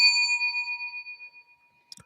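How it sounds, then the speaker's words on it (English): A single bell strike rings out loud and clear with a bright metallic tone, then decays smoothly over about two seconds, followed by a brief knock near the end. "Let's ring the bell for everybody being"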